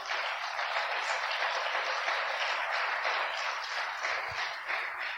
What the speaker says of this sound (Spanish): ¿Cuántos le dan un aplauso fuerte al Señor?